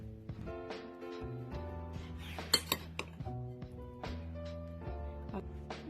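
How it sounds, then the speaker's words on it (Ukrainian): A spoon or utensil clinks and scrapes against a salad bowl as pineapple salad with eggs is mixed, bright ringing taps and knocks repeating unevenly at close range, several sharp strikes in the middle, no one talking. "Тепер все гарненько перемішуємо."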